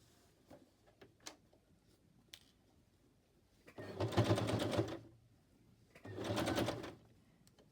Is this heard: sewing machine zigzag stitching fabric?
yes